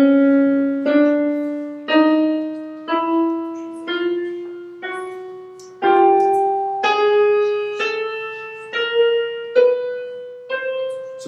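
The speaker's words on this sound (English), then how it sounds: "So that's a chromatic scale where each interval changes by the least amount that it can possibly change." Piano playing a slow ascending chromatic scale, one struck note roughly every second, each rising by a semitone and decaying before the next, clear and close with no voices.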